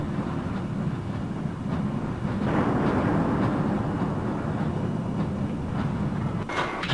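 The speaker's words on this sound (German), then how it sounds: "irgendwie hakt der Zug hier" A train rolls along rails in the video game Black Mesa, a steady loud rumble with faint rhythmic clatter and occasional metallic squeaks throughout.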